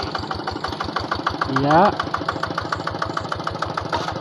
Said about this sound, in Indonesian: kita lihat dari dekat, ini mesin mau pindah